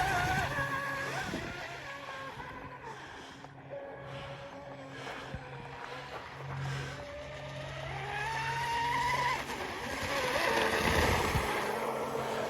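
A radio-controlled model boat's motor whines steadily across the water, its pitch rising and falling as it turns and the throttle is eased off, with a louder surge near the end.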